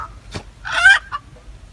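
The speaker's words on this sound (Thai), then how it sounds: "ไก่" A chicken clucks close by at a home in South Sudan, a few short sharp calls with one louder squawk in the middle and quiet gaps between.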